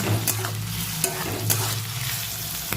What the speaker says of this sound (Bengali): তেলটা গরম হয়েছে, এর মধ্যে কাঁচা লঙ্কা, পেঁয়াজ আর রসুন কুচিটাকে দিয়ে দেবো